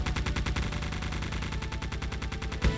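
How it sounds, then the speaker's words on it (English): Several turrets fire at once in the video game Geist, a loud, dense stream of rapid automatic gunfire with evenly spaced bursts throughout, ending in a sharper heavy blast. "Each one of these turrets is much, much louder than any other"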